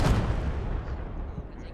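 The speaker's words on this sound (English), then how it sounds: "A whole bunch of smoke. Explosion." Explosion in a military shooter game, a deep booming blast with a rumbling tail that fades over under two seconds.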